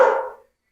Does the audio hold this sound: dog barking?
yes